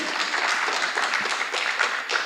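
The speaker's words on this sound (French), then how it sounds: "oui, on peut applaudir" An audience claps together in steady, dense applause that stays moderately loud for a couple of seconds, with no talking over it.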